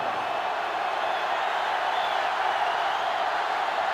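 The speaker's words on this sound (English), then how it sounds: "This sellout crowd is really making a difference now as these guys can't even call the play." Steady roar of a sellout stadium crowd in the NCAA Football 2005 video game, a continuous broad wash of cheering noise that holds level throughout with no talk over it.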